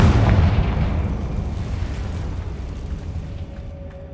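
A Confringo fire spell from the Hogwarts Legacy video game goes off as a loud, deep explosive boom, then rumbles and fades away over several seconds.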